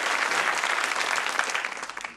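A studio audience at a TV panel show gives a loud, dense round of applause that fills the whole moment and tapers slightly near the end.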